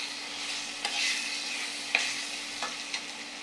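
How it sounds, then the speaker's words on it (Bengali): Chicken meat hits hot oil in a pan with a steady, close sizzling hiss, broken by a few sharp pops and clicks. "তেলটা হয়ে গিয়েছে আমার। এতে আমি মুরগির গোশতটা দিয়ে দেবো।"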